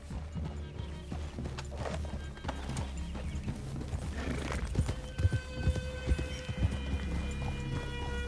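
Horses' hooves clip-clop at a slow walking pace on hard ground, with occasional snorts and a faint whinny, fairly close and uneven in rhythm.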